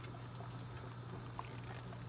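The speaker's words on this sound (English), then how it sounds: "Put your blood in." Blood is poured into a pot of Lao khao poon noodle soup, a soft liquid pour and trickle steady for about two seconds over a low hum, close and fairly quiet with no talking.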